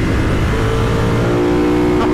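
A Ducati 916 sport motorcycle on a road ride, its engine revving loud and close under heavy wind rush, pitch climbing steadily as it accelerates.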